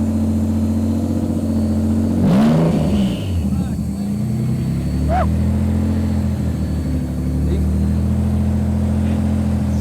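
A Nissan's engine revs loudly up close, holding a steady throaty drone with a sharp surge early on, while people talk over it.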